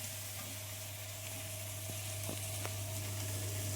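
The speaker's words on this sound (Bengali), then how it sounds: "এবার এবার জল চলে যাচ্ছে কড়ায়, কড়ায় জল চলে যাচ্ছে গাইস।" Water poured into a hot kadai of curry with potatoes hisses into a steady, close sizzle, with a low constant hum beneath and a few short clinks of a utensil against the pan.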